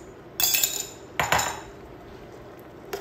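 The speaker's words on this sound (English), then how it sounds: "I'm just gonna stir it into this gravy" A spoon clinks and scrapes against a pot while shrimp are stirred into gravy for shrimp étouffée, two clear bursts of metallic clatter close by, then a faint tap, with no talking.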